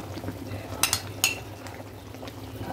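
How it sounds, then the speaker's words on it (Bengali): A spoon stirs chicken roast with nuts in a pan, giving two or three sharp, close metallic clinks over a quiet, low background. "বাদামটা দিয়ে ভালো করে নেড়ে চেড়ে মিশিয়ে দিতে হবে।"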